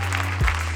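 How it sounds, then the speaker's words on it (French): An audience at a real estate event in Nîmes gives a short burst of applause, a dense clatter of clapping over a low hum, with no voices. "Vous pouvez l'applaudir"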